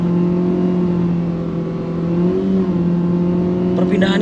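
Mitsubishi Xpander 2022 with a CVT gearbox accelerating, a steady engine drone with a slight rise in pitch partway through, heard from inside the cabin at a close, fairly loud level.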